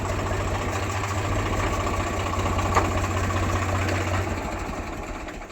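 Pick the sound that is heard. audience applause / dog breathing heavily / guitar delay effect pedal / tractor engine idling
tractor engine idling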